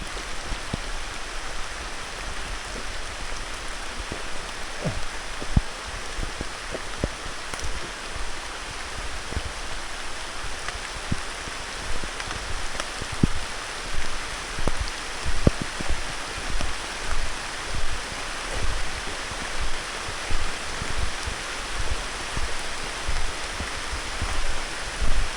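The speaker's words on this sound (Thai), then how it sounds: "ฝนตกอีกแล้ว" Steady rain falls in a forest, a dense, even hiss of drops on leaves and surfaces with occasional louder individual drips, continuous and close around.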